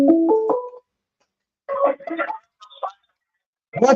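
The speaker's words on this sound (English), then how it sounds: "I think I got a phone call here." A telephone rings in a few short bursts separated by silence, the first tones steady and fairly loud, followed by brief electronic chirps and another burst at the end.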